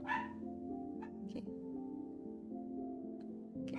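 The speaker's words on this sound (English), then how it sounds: "I'm so sorry if you hear my dogs barking." Dogs barking indoors, a few short yips at scattered moments, faint and in the background beneath a steady hum.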